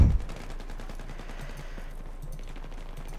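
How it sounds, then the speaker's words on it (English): Distant gunfire in the video game Battlefield 3: a dull thump at the start, then a steady stream of faint, rapid shots in the background. "I'm being shot at."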